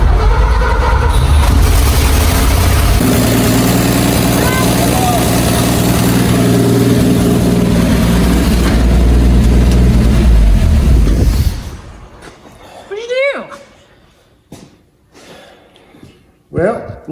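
Engine of an abandoned Ford F100 truck left in a junkyard for 50 years, started with a screwdriver, running loud and rough for about eleven seconds before cutting out, followed by scattered clanks and short voices.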